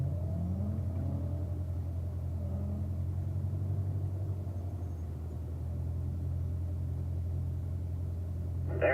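A Corvette on a braking exercise course gives a steady low engine rumble that holds fairly even throughout, moderately loud and without voices, ending in a brief sharper noise.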